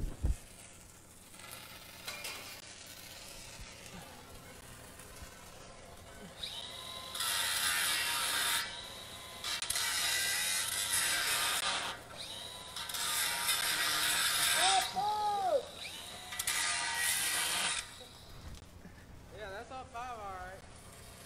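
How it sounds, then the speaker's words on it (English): An angle grinder works on a downhill pipeline weld in bursts, giving loud, high whining grinding passes of a second or two each, separated by quieter gaps filled with mechanical clatter and a voice. "Hand me that grinder over there"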